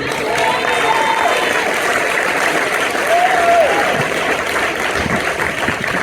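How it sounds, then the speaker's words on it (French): A church congregation applauds in praise during a sermon, a continuous wash of many hands clapping across the hall, with raised voices calling out over it. "À l'applaudissement pour le Seigneur"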